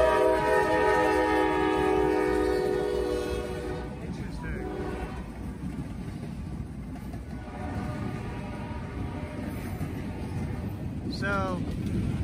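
A CSX freight train led by AC44 and Dash 9 locomotives passes, opening with a loud multi-tone horn blast, then a rumbling roll of wagons, with another short horn burst near the end and voices talking over it.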